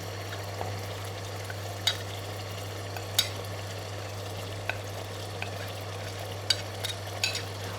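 Cumin and spices fry in a pan with chicken liver while being stirred, producing a steady sizzle under a constant hum, with occasional scraping clicks of the utensil.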